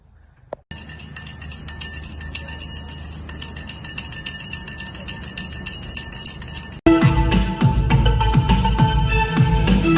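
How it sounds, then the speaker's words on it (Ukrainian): A bright electric school bell rings continuously and loudly for the first bell of the school year, joined partway through by upbeat music. "Як же хочеться після цих всіх гарних слів почути той перший дзвоник."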